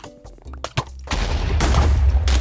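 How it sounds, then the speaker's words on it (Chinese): Enemies blowing up in Minecraft's Twilight Forest mod: a few sharp pops and a thud, then a loud, sustained crackling burst of blasts that fills the last half near and harsh. "哇，他们竟然会爆炸！"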